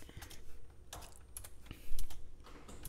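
Close, quiet keystrokes on a computer keyboard while code is typed, irregular clicks in quick bursts with a slightly louder cluster near the end.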